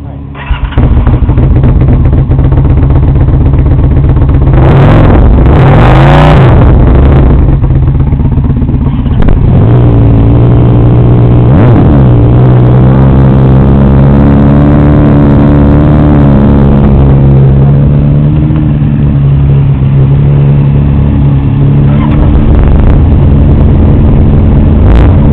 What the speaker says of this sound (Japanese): ほな、こいつエンジン音かけてもらえます。